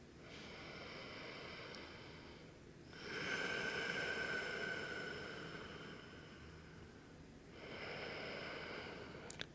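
Slow, deep breaths are drawn in and let out during a yoga pose, two long airy inhales and a softer exhale between them, close and alone.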